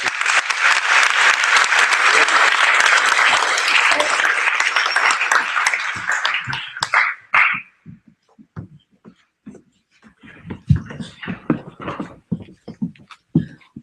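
Loud, full applause from a school NJROTC change of command ceremony audience, steady for several seconds before thinning out into scattered individual claps and a few stray sounds.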